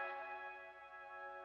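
Synth piano layer from a one-shot kit, a sustained bright chord with ringing, bell-like overtones and reverb, held steadily at a soft level with no other sounds.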